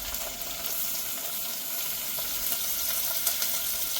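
Onions, potatoes and carrots frying in a hot pan of tempering spices, a steady bright sizzle with occasional stirring, alone with no voices.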